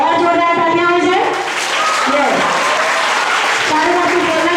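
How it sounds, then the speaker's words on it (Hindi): An audience at a school success party applauds loudly and continuously, and a voice talks over it at the start. "तो और जोरदार तालियां हो जाए"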